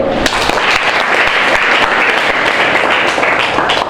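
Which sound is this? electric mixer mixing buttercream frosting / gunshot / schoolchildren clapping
schoolchildren clapping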